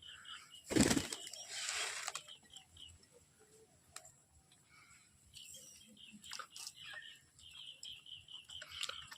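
Pet pigeons in a home loft give a loud, close burst of wing flapping early on, then quieter rustling, scattered soft calls and light ticking movements.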